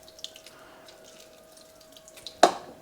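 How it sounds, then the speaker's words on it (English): Lemon juice splashes onto cooked moong dal in a kitchen: a quiet stretch of faint clicks and drips ends in one sharp, close splash near the end, with no talk. "Just a splash of lemon juice goes in."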